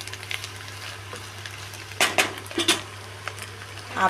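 Soft crackling sizzle of cabbage and moong dal frying in oil, with a few louder clinks and scrapes of a utensil against the pan.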